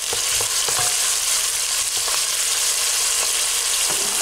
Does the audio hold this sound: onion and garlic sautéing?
yes